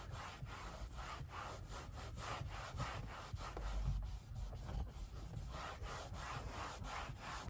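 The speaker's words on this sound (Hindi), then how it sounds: "तो भाई ड्राई माइक्रोफाइबर से हमने रब कर लिया है।" A dry microfiber cloth is rubbed over a car dashboard to buff off a 3M dashboard dresser polish. It makes close, steady, rhythmic swishing strokes with no talk.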